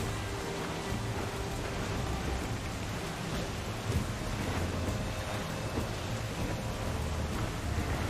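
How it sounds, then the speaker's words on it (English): A heavy downpour in a video game, Assassin's Creed IV: Black Flag, roars steadily with dense rain hiss and low rumbling, continuous and loud throughout, with no one speaking. "That's no small downpour!"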